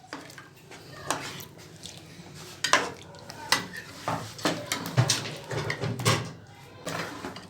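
Spices being stirred into chicken korma in a metal pot: steady spoon scrapes and clanks against the pot under a low simmering sizzle, with irregular knocks spread through the stir.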